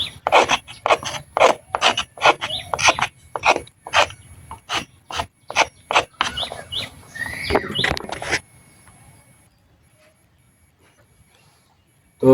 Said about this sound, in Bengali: চলেন আর একটু ঘষে নিই